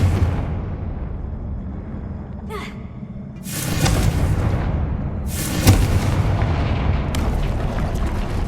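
The Confringo blasting spell in Hogwarts Legacy: two loud, sudden explosive bursts several seconds apart, each with a sharp crack and a rumbling tail, over a steady low background hum.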